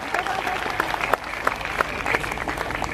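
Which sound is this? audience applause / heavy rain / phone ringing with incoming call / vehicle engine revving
audience applause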